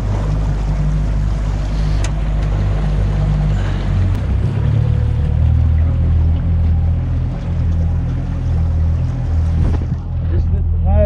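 Motorboat with an outboard motor pushing through shallow water, a loud steady engine drone with water rush and wash throughout, close and continuous; a person talks briefly over it.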